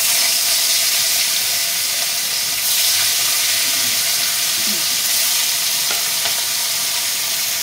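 Rohu fish fries in mustard oil in a steady, loud sizzle that runs throughout, with faint stirring clicks now and then and no voices.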